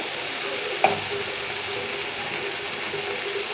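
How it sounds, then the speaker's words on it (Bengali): Spice paste of ginger, green chilli and turmeric frying in oil in a pan, a steady close sizzle with one sharp scrape of a spoon near the start. "দেখুন ভালোভাবে কষানো হয়ে গেছে, মশলা তেল ছেড়ে দিয়েছে।"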